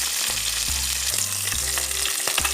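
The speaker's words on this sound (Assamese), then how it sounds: "আমি অলপ ৰঙচুৱা হোৱালৈকে মাছখন ভাজি ল'ম।" Fish fries in a pan for a curry, a loud steady sizzle with intermittent scraping strokes and low rhythmic knocks as it is stirred.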